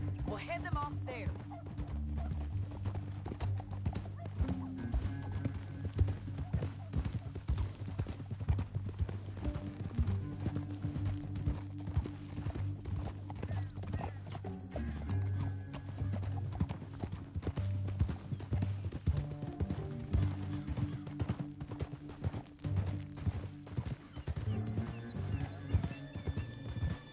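Horses in the Western video game Red Dead Redemption 2 trot with a steady, rhythmic clip-clop of hooves that runs throughout, heard under a droning musical score, with a neigh or two and characters talking in between.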